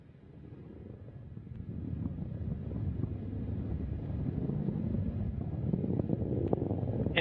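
A Northrop Grumman rocket's first stage engines roar during a cargo launch to the space station from NASA Wallops, a distant, steady low rumble that slowly builds in loudness with wind buffeting the microphone.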